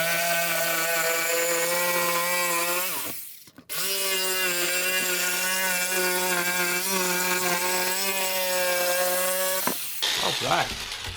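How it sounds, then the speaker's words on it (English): A jigsaw cuts OSB board along a traced line, its motor whining at a steady pitch up close. The saw stops briefly, then runs on and shifts tone near the end. "now with the jigsaw, I'm just going to trace around this line I just made"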